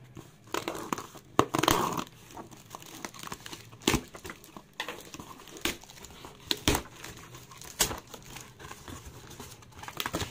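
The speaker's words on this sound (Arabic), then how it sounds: "تعالوا نفتح الكرتونه الثانيه" Cardboard packaging is opened with crinkling, rustling and sharp tearing sounds, irregular and close, with scattered louder crackles and no speech.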